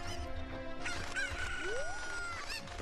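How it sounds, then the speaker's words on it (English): In The Legend of Zelda: Ocarina of Time, a Cucco chicken lets out a drawn-out, harmonically rich crowing cluck with a rising squawk in the middle, heard close and clear with steady game ambience behind it. "using a Kuko, which is this chicken right here"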